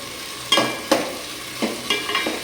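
Rice frying in a pan for Basanti pulao, with a spoon scraping and turning the grains in several separate strokes over a soft, steady sizzle.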